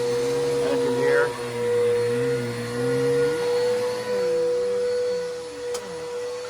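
Bissell vacuum cleaner running steadily at close range, its motor drone joined by rising and falling squeaky wheels as it rolls back and forth over the floor.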